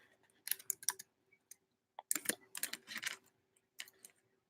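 Someone types on a computer keyboard nearby in irregular, faint bursts of clicks separated by brief silences, with no voices.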